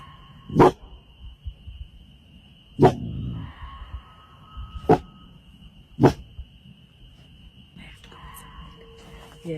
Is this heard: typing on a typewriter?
no